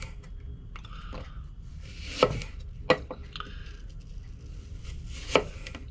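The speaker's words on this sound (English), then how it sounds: "I'm going to keep the skins on the fruit for this. And I'm going to slice them." A knife slices through skin-on apple on a cutting board for an apple and pear tart, giving three or four sharp, close chops spread over a quiet background.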